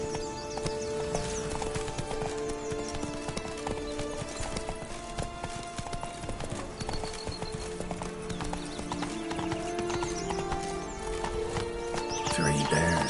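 The horse Roach gallops with rapid, steady clip-clop hoofbeats in the Witcher 3 game, continuous and close, with a whinny and game music layered over the running.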